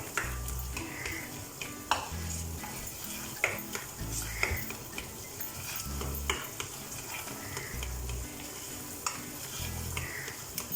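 Bombay Karachi halwa being stirred in a pan, a continuous soft sizzle with a spoon scraping and knocking against the metal at a steady, repeated rhythm, close and moderately loud.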